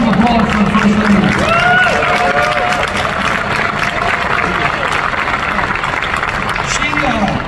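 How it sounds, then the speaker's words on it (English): Sustained audience applause for the first lady at a PCA conference, steady and loud throughout, with scattered cheers and voices mixed into the clapping. "Have a round of applause for the first lady."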